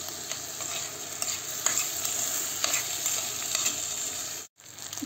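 Beans cooking in a pot, a continuous close hiss and bubbling sizzle with light stirring scrapes, steady throughout before a brief cut near the end.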